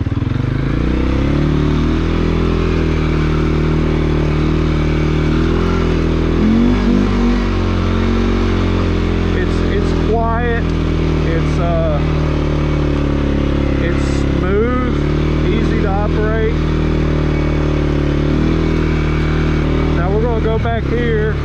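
A CFMOTO CFORCE 400 ATV, 2021 model, drones steadily while being ridden off-road, a loud, close, continuous engine hum with occasional rises in revs and a clattering chassis, heard throughout.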